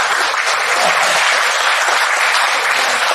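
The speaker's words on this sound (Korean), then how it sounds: "사실 이 박수는 제가 받으면 안 되고요." A book talk audience bursts into dense, steady applause, loud and continuous throughout with no voices over it.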